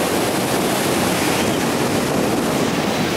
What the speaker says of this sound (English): It's just fantastic waves today.